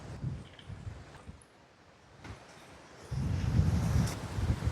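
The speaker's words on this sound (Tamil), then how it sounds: "சரியான காத்து அடிச்சு கொண்டிருக்கு." Strong wind blows outdoors in a Jaffna village, gusting as a rough low rumble against the microphone that eases off in the middle and then surges louder near the end.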